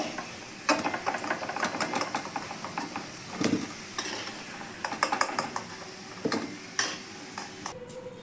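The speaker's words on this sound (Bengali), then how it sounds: "এই তেলেই আমি কপিগুলো আবার ভেজে নিচ্ছি" Cauliflower florets coated in salt and turmeric fry in oil already used for potatoes. A soft sizzle runs underneath while a spatula clinks and scrapes against the pan at irregular intervals.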